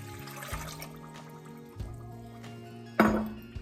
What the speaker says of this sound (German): Dann gießen wir das Wasser darüber.